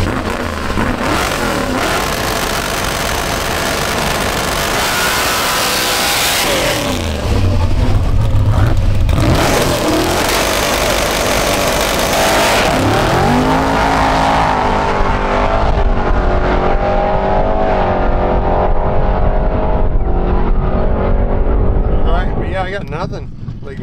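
A stick shift Camaro roars down a dragstrip, its engine loud and close as it revs and climbs through the gears, then fades into the distance toward the end, with voices faintly present.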